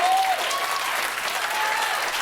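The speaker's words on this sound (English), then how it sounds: "More clapping." A late-night television studio audience claps loudly and continuously, a thick even wash of applause that holds steady before cutting off abruptly at the end.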